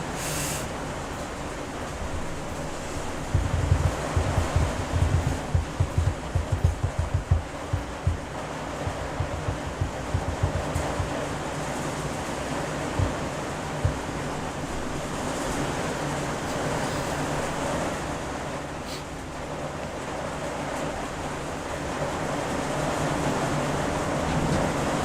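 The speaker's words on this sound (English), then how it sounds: "Sorry for the rain noises. That's we're getting some heavy rain right now." Heavy rain falls outside during an indoor work session, a continuous broadband hiss with some heavier patter early on, steady and moderately loud throughout with no speech.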